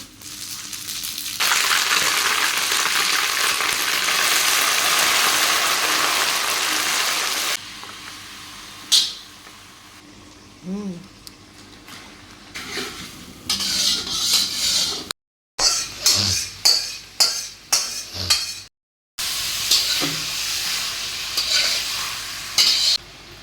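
Cumin, panch phoron, bay leaf and dried red chillies frying in oil, a loud dense sizzle at first, then quieter stretches broken by repeated stirring scrapes and bursts of crackling, with brief silent gaps.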